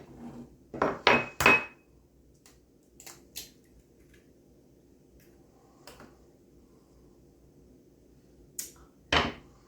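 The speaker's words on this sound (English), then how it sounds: "I'll put in an egg." Egg being added to banana nut muffin batter in a home kitchen: a few sharp cracks and clinks against a bowl, then scattered soft taps and a final clatter near the end, close and quiet between sounds.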